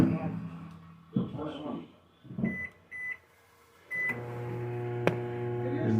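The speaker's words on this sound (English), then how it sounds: "we're going to put it in the microwave and cook it up" Microwave oven cooking a chicken nugget dinner with a brownie inside: a few short beeps sound as it is set, then a steady electric hum runs close by to the end.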